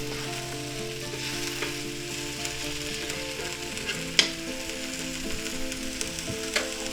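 Large chunks of sous vide pork shoulder sizzle and crackle steadily in a hot pan while being stirred around, with occasional sharp pops and scrapes over the constant frying hiss.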